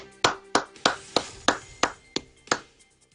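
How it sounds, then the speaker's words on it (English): A round of applause for frontline and essential workers from a news team, heard as about eight separate, evenly spaced claps, close and fairly sparse, like a single pair of hands. "join me and the Eagle News team in a round of applause for our frontline and essential workers"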